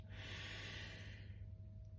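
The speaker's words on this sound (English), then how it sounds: "Breathing all the way in for the count of 4" A slow, steady inhalation drawn deeply through the nose during a guided 4-2-8 breathing exercise, airy and close, filling about two seconds before easing off, with a low hum underneath and no talking.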